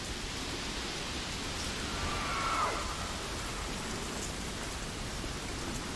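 Steady rain falls in The Witcher 3: Wild Hunt as a dense, even hiss that fills the whole clip, with no voices over it.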